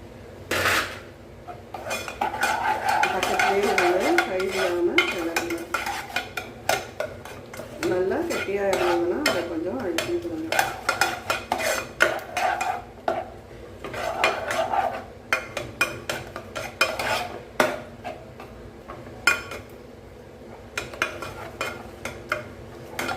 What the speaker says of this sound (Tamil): அழுத்தம் கொடுத்து இப்படியே கிளறி கொடுத்துட்டுருங்க